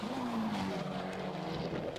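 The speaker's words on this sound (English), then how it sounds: "It's just some dudes doing a cool Higashi run." Drift cars run a Higashi track in Japan, their engines whining and droning loudly with a falling rev sweep and tire noise, heard alone without talk.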